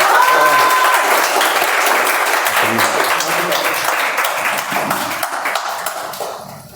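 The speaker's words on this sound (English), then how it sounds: "Can we have a round of applause for our contestants, please?" Audience applause for contestants at a speech contest, loud and sustained at first, then thinning and tapering off toward the end.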